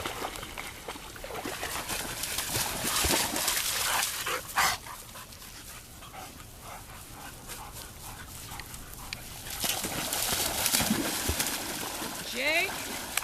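Dogs, including a puppy and a boxer, scuffle and play nearby with rough growls, yips and a few barks during off-leash training, while a person's voice calls out intermittently.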